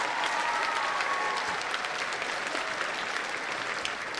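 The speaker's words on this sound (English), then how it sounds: "Can we give her an applause, thanking her for her service?" Applause at a Veteran's Day school assembly honouring an Army Reserve veteran: a moderate, even patter of many hands from a large crowd, sustained and slightly distant.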